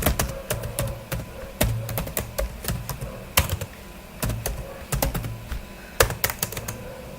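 Rapid, uneven clicking of a computer keyboard as someone types Solidity code, keystrokes close and crisp in bursts with short pauses and no speech.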